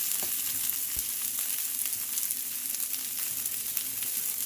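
Thin-sliced Jerry's Quick Steak fries in a pan for a keto Philly cheese steak, a dense, even sizzle hissing continuously with a few faint ticks and pops and no voices.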